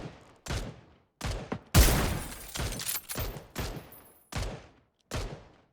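Bursts of rapid gunfire in the video game PUBG in quick succession, several sharp volleys separated by short pauses, loud and close, with no talking.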